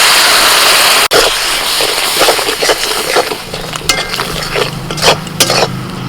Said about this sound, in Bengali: অল্প একটু জল দিয়ে মশলাটা কষিয়ে নেব